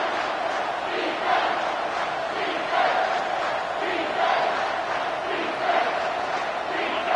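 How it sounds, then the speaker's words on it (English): Stadium crowd in a Madden/NCAA 25 football game roars continuously, a loud dense wash of cheering and chanting with rhythmic swells as the home fans force a false start. "with this place rocking, the crowd forces a false start"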